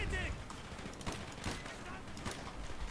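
An StG 44 assault rifle fires in Call of Duty: Black Ops, a rapid, fairly dense crackle of shots at moderate distance running the whole stretch, with a voice speaking over it.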